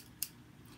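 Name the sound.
small sharp scissors snipping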